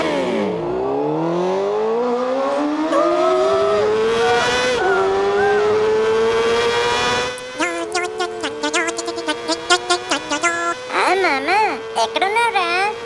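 A new racing-style motorcycle revs with a steadily rising engine whine for several seconds, loud and close, then gives way to wavering, warbling tones with choppy bursts.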